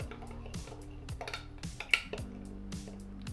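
Curry paste being stirred in a bowl with a metal utensil, a quick series of close clinks and scrapes against the bowl over a faint steady background hum.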